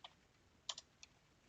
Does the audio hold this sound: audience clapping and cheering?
no